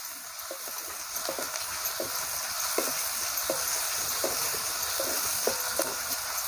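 Onions frying to a reddish colour in a pan for kanda poha: continuous moderate sizzling with repeated light spatula scrapes and taps at an uneven rhythm, close by and without speech.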